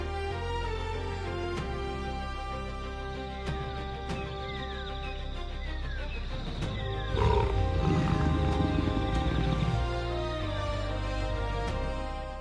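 Lions in Kenya's Masai Mara roar and grunt over a dense bed of steady humming and sustained tones, with the roars rising into a louder, rougher passage toward the end; no talk.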